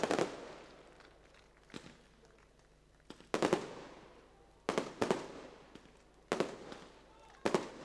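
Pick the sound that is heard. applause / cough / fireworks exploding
fireworks exploding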